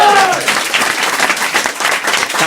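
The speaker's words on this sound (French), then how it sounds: "T'as remarqué, ils ont applaudi plus que toi." A studio audience of a French comedy talk show applauds guest Philippe Candeloro, loud sustained clapping that opens with a brief voice and swells in waves.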